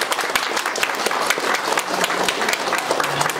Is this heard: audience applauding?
yes